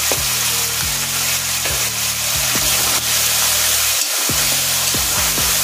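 Cumin seeds tossed into hot oil for a Bengali catla fish curry, a steady loud sizzle with repeated rhythmic scraping strokes of a spatula against the pan.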